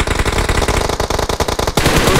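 Rapid automatic gunfire from the mobile battle royale game PUBG Mobile during a tournament match, dense loud bursts of shots rattling continuously for about two seconds with no talk.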